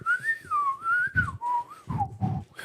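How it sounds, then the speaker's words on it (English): A person whistles a wavering, melodic tune alone at close range, the pitch sliding up and down in several phrases with brief breaths and background rustle between them. "That's whistling."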